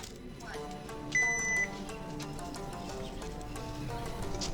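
A quiz timer gives a single short electronic beep near the start, heard over a steady background of music-like tones in a school hall setting.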